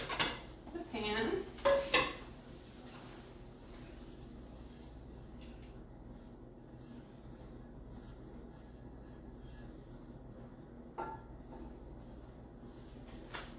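Near the start a spatula scrapes and clinks against a pan as cooked eggs are lifted out. Quiet kitchen room tone with a faint hum follows, with one more soft clink later on.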